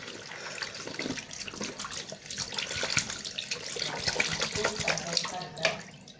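Tap water runs into a sink during handwashing, a close, continuous splashing stream with uneven gurgles and surges, no talking over it.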